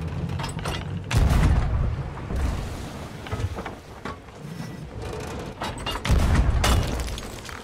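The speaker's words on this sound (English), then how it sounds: "I'm just gonna blow him with a cannon." Ship's cannon firing in the pirate game Sea of Thieves, several heavy booms spaced a few seconds apart over sea and wind ambience and creaking ship mechanisms.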